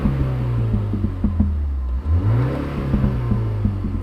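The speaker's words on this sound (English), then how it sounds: "So when I rev it, listen to this is what I hear inside the cabin." Inside the cabin of a new MINI Countryman, the engine revs up and down with repeated sharp pops and bangs crackling over a steady droning rumble, close and fairly loud with no talking.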